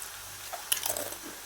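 Crispy fried unripe plantain chips crunch in a few quick, close bites, a short cluster of dry cracks in a quiet setting without speech.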